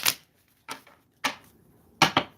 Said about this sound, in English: let me give it one last shuffle here